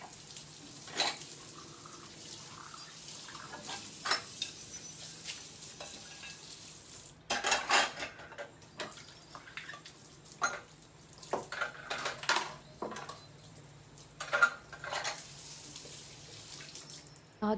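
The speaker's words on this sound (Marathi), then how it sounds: "सकाळची जी काही लागणारी भांडी आहेत, आरुषचा टिफिन वगैरे सगळं मी घासून धुवून ठेवते" Vessels and a child's tiffin box being scrubbed and rinsed at a home kitchen sink during evening cleanup: steady running tap water with scattered clinks and knocks of utensils, fairly quiet, no voices.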